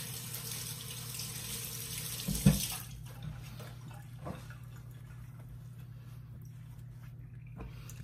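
A kitchen tap runs steadily while hands are washed during corn cake preparation, a soft continuous hiss of water with a brief splash partway through before the flow eases.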